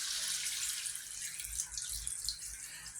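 Water pours from a tap into a cooking pot for chicken tinola, a soft continuous splashing stream at fairly low volume with no voices over it.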